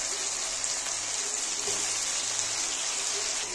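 Tomato goes into a pan of lightly fried potatoes, and a steady rain-like sizzle of oil and moisture follows, close and even with occasional soft pops, no talking.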